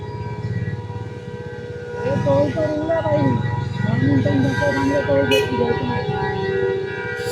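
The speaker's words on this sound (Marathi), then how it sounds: "सगळे हॉर्न मारतायत." Long, sustained vehicle horns blare over traffic noise in stalled traffic at a highway toll plaza, overlapping one another for several seconds while a person talks nearby.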